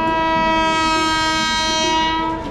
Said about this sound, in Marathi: वैसे हमारी ट्रेन आ चुकी है भाई